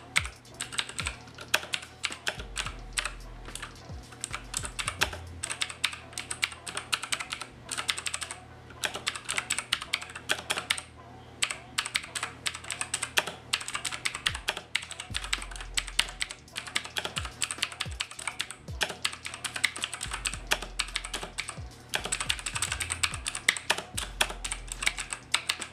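Typing on a new gaming keyboard: crisp, rapid key clacks in irregular bursts with short pauses, close and fairly quiet, with a low hum underneath and no talking.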